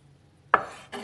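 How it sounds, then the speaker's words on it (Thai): A knife cuts through pork with fat into pieces for frying, one sharp close slicing contact followed by a drawn scraping stroke and a second shorter cut, quiet otherwise. "แล้วก็จะหั่นเป็นชิ้นสำหรับการทอดนะคะ"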